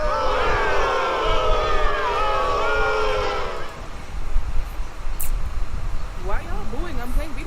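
A large crowd boos loudly in a dense, sustained wall of overlapping voices for several seconds, then the booing gives way to a rumbling crowd murmur with a few scattered rising calls.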